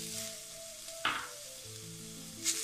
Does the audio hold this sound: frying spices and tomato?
yes